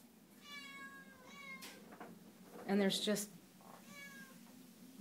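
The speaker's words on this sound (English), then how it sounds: "And they're in here with cats." Several cats meowing repeatedly, near and moderately loud, in a room holding rescued rabbits kept in cages, with a person talking over the calls.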